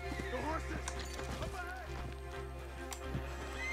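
A horse in the video game Red Dead Redemption 2 clip-clops and whinnies over steady game music and ambience, with hoofbeats and neighs in the mix and a person talking over them.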